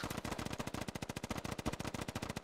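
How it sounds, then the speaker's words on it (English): Sustained automatic gunfire in the military shooter game Squad, a fast, even rhythm of loud shots rattling continuously without a break. "they are doing large volume of fire over onto the insurgent side"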